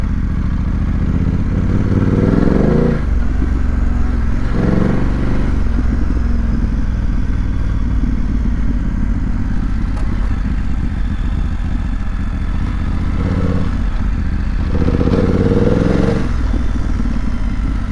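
Engine of a 2025 BMW F900GS motorcycle while riding on a mountain road, a loud, steady mid-pitched drone with rising and falling revs and rushing wind, close and continuous throughout.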